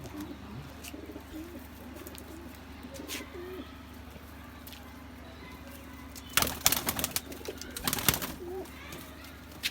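Pigeons in a loft give low, repeated coos over a quiet background, joined later by a few sharp bursts of wing flapping and shuffling close by.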